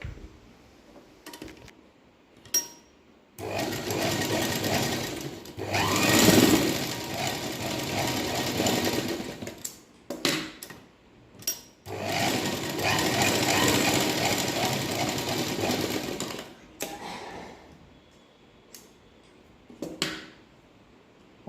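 A sewing machine stitches a blouse front in two long, loud runs of steady rapid whirring, each several seconds long, separated by brief pauses with scattered clicks and handling noises.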